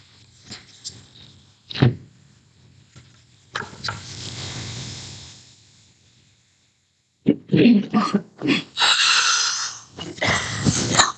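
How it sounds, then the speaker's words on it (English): A nearby person coughs in several harsh, irregular bursts with a long rasping breath between them and short pauses of quiet. "Excuse me for coughing."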